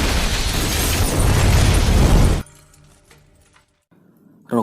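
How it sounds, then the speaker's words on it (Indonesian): Loud explosion in a yakuza action film scene, a roaring blast with rumble and crackling debris sustained for a couple of seconds, then cutting abruptly to quiet with faint residual sounds. "Namun tiba-tiba ledakan terjadi di tempat tersebut."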